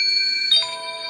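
Cheap AliExpress smartwatch plays its start-up melody from its small speaker, a short, clear chiming tone that shifts pitch midway, close and alone.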